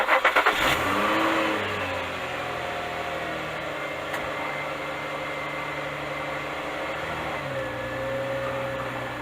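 An Infiniti FX35 on the road after a front driveshaft replacement, with a steady engine hum and road noise from inside the cabin, rising slightly as it gathers speed.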